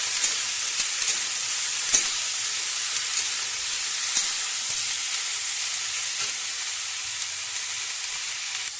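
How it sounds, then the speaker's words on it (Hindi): Potatoes and aubergine fry in oil in a pan with a steady, loud, close sizzle, while faint stirring scrapes and ticks break through now and then. "इसमें हम आलू सब कुछ एक साथ डाल दिए हैं। अब हम इसको भूजेंगे।"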